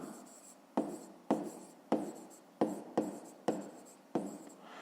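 Pen or pencil writing on paper in a math exercise, eight distinct scratchy strokes in a steady rhythm, close and clear, with no talk.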